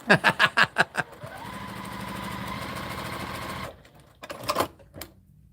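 A series of sharp knocks, then a sewing machine whirs steadily for a few seconds before stopping, followed by a few more clicks and clunks.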